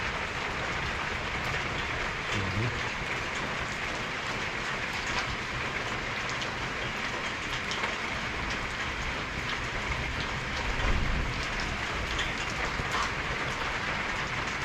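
Steady broadband hiss of rain falling continuously, with a faint low rumble underneath and no voices.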